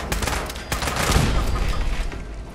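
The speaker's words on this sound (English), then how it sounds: "There are turrets." Automated turrets open fire in the video game Fallout 76, a dense burst of rapid gunfire with sharp repeated reports and a low boom rumbling underneath, loud and sustained throughout.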